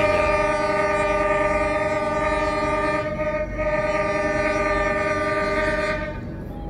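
The Malioboro Ekspres locomotive, held at a red signal, sounds a long steady horn blast, loud and close, sustained for several seconds over the rumble of the train.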